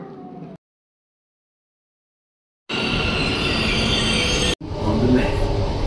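A metro train rumbling and rattling along the tracks, loud and close, after a stretch of silence, with a brief cut midway.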